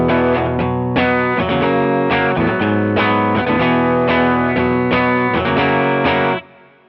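Electric lead guitar plays the Alleluia melody through distortion and chorus effects, a loud, sustained riff of repeated phrases with steady attacks that stops abruptly near the end, with no voice.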